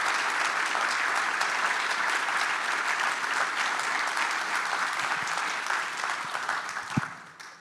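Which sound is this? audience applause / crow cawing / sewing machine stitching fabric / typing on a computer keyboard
audience applause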